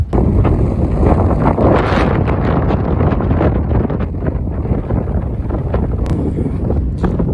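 Strong wind on a beach roars and buffets continuously at close range, blowing sand, a loud, steady rushing noise with gusty surges and no voices.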